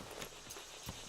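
Horse hooves clip-clop at a walking pace in Red Dead Redemption 2, a few soft irregular thuds heard faintly over a low background wash with no talk.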